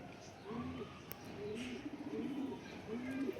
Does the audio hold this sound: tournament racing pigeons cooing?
yes